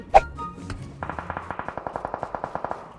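Automatic weapon fire in the PUBG Mobile game: one sharp shot up front, then a steady, rapid burst of about eighteen evenly spaced rounds, loud and close.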